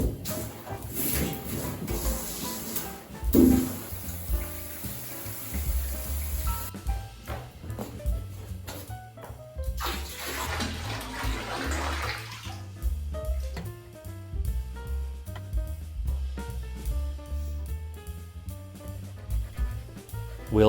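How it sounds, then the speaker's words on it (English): Water runs steadily into a bathtub for a bath in a rural Japanese home, a soft continuous gush under background music. "Throw it in as the water's running for a nice relaxing bath."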